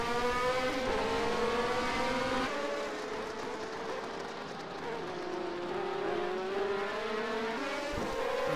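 Norma M20 prototype race cars racing at the Pau-Arnos circuit in a French Coupe de France race, engines droning and revving loudly and continuously, with pitch shifts as cars accelerate, brake and change gear.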